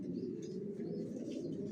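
A young silver Janssen-line racing pigeon in a loft, soft low cooing murmurs repeating in a steady throaty burble, close by and fairly quiet with faint ambient chatter.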